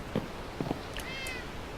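Cat meowing in the Minecraft video game, a few short, close meows spaced apart over a quiet background.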